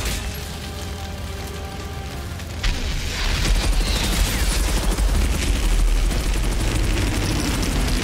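Pistol gunfire in the video game Outriders, a dense burst of loud shots and impacts starting a few seconds in after a quieter stretch, continuing steadily to the end.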